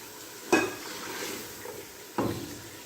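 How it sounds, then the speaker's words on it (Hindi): Chicken frying in ghee in a pot is stirred, giving a steady low sizzle with two distinct scraping stir strokes about a second and a half apart, fairly close and without speech. "ये देखिए, इसको मैं अच्छे से हिलाती हूँ।"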